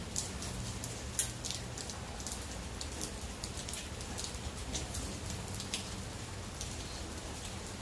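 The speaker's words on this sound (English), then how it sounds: "The rain's coming in a little bit." Steady rain outside a cigar lounge on a Friday night, a constant even patter with a few louder drops now and then.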